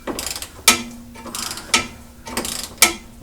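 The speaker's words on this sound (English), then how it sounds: "Get the wrench turned over to where it'll brace itself." Ratchet wrench turned on a front-end link of a second-generation Camaro F-body car: three loud, evenly spaced strokes, each a burst of rapid ratcheting clicks ending in a sharp snap, heard close with no talking.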